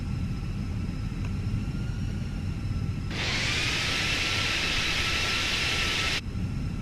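Airbus A320 engines in a flight simulator game swell into a loud, steady roar partway through as the airliner begins taxiing forward, holding for a few seconds before dropping back to a lower hum, with no talk.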